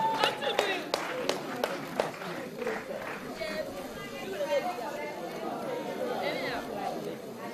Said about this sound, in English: Another time for clap for Ishmael.